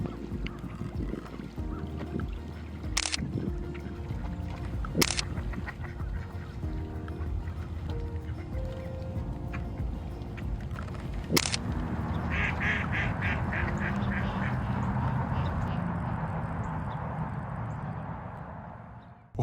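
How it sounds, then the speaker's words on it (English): Ducks and other birds call at a park, with a run of quick quacks near the end over a steady outdoor background, broken by a few sharp clicks. "Birds everywhere."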